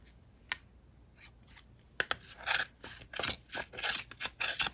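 Scissors snip through yarn while trimming the pieces of a pom-pom ornament: close, crisp cuts that start sparse and quicken into a rapid, rhythmic run of snips.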